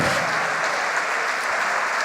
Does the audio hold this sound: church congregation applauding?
yes